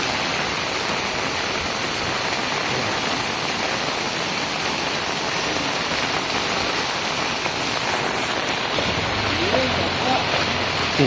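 Dense, heavy rain pours steadily and loudly throughout in Ramanathapuram, a constant hissing roar of water hitting surfaces, with a voice faintly audible near the end.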